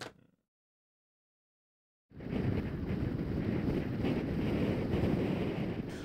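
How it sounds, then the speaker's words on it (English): Strong wind roars steadily during an Antarctic storm, starting abruptly after a short silence and continuing loud and unbroken, buffeting the microphone. "The weather is so cold and windy that they can't even go out of the tent."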